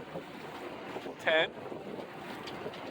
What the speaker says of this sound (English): There's nice wind out here